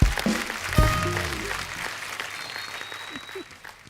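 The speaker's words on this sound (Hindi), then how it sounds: "जोरदार तालियां एक बार राज सर और जया मैम के लिए" Studio audience applause on a TV comedy show, loud and close at first with a sharp hit and a musical sting, then fading gradually as the clapping dies down and voices emerge.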